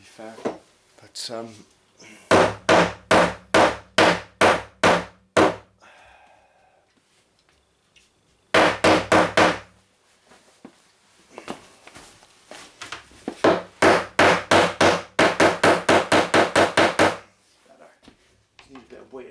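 A hammer strikes wood while an arcade cabinet is built, several bursts of quick, loud, close blows separated by pauses, with someone talking briefly between them.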